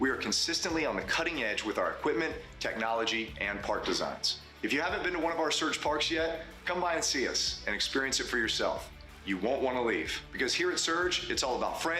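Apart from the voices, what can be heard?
No distinct noise like a dog, phone or traffic.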